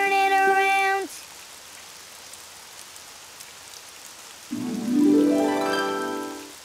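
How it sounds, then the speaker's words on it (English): Rain falls outside as a steady, soft hiss, with brief bright tonal sounds, like a voice or music, at the start and end. "Oh, it's raining outside."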